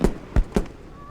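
Fireworks in the video game Lake: Season's Greetings: three quick, sharp bursts pop in close succession, followed by a faint lingering whistle.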